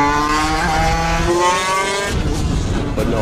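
A custom 50-horsepower Vespa scooter screams at high revs while accelerating hard, a loud, close, continuous engine whine climbing in pitch, then dropping as the throttle shifts near the end.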